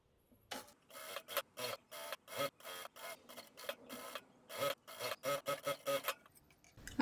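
A sewing machine stitches a belt onto ladies' pants in quick bursts of rapid mechanical chatter, a dozen or so short runs separated by brief pauses, close and clear with no talking.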